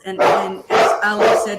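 A nearby dog barks loudly three times at an even pace. A voice is mixed in with the barks.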